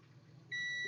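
A multimeter's continuity beep sounds while probing the pins of a PTC relay: a clean, steady high tone cuts in halfway through and holds to the end over a faint background hiss.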